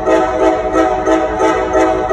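Loud blaring air horn, a sustained harsh tone that pulses a few times over a couple of seconds, close and dominant with no voices.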